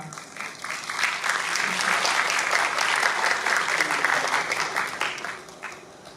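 Steady applause from a concert audience after a Thai popular music performance, swelling quickly and holding for several seconds before tapering off.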